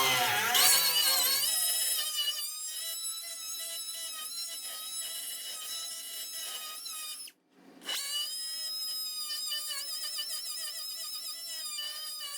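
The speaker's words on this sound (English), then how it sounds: "But I'll just grind out these two right now and show you real quick." A grinder cuts out rusty sheet metal on early 1966-1977 Ford Bronco floorboards, a loud, steady high-pitched whine that drops out briefly and then resumes, with no talking.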